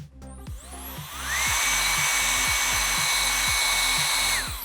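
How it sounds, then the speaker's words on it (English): A handheld blow dryer drying hair during a blonde and gray blending color service at a salon. It clicks on, then a loud steady whirring airflow continues alone for about four seconds before cutting off. "I'm gonna use my blow dryer to create that dimension"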